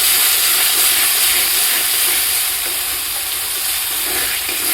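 Mutton frying with packaged meat masala in a pan, giving a loud, steady, close sizzle and hiss throughout, with no voices.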